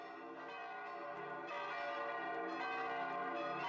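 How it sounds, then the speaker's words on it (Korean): Church bells ring out over Florence, a dense, sustained wash of overlapping tolls that swells louder midway and carries on steadily with no voices. "아침부터 저녁까지 메마른 종소리가 피네체 시내를 진동하고 있었습니다"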